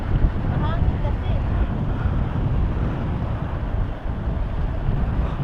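Strong wind gusting at a Batangas seaside, with heavy waves on a rough shore near Monte Maria; a loud, constant buffeting roar fills the microphone while someone talks over it.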